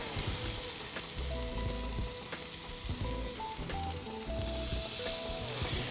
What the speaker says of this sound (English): And you can really hear it sizzling.